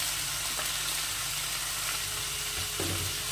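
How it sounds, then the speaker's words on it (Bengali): Vegetables for a Bengali chorchori frying in a pan, a steady close sizzle with stirring and scraping of the mixture throughout, no voices. "এখন একটু ভালো করে নেড়ে চেড়ে মিশিয়ে নেব এভাবেই আমি সবজিটাকে দু মিনিট ভেজে নেব"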